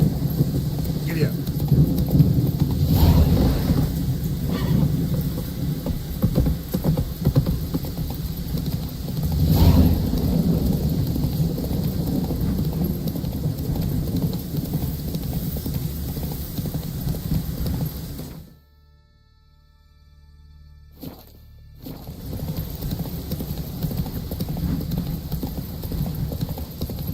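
Horse hooves gallop in a steady clip-clop rhythm while riding through The Witcher 3, with a rumbling game ambience beneath; the sound cuts out abruptly for a couple of seconds and then resumes.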